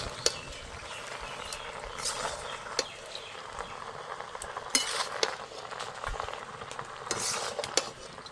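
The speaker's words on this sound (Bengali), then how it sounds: "টমেটোগুলো আরেকবার একটু নেড়ে দেবো" Tomatoes for a kul (jujube) and tomato chutney are stirred in a lidded cooking pot, with scraping and clinking of a utensil against metal over a soft, steady sizzle, punctuated by a few sharper knocks.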